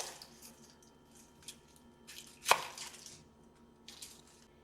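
A knife cuts through vegetables on a cutting board, a few soft, spaced chops with one sharper, louder strike near the middle, heard up close and quiet with no voices.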